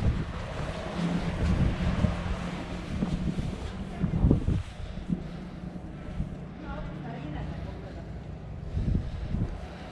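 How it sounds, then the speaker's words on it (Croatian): Strong bora wind blows over the water near Vrana and Maškovica han, a steady, loud roar and buffeting that runs unbroken for the whole stretch, with faint murmurs now and then underneath. "Bura dere, zima."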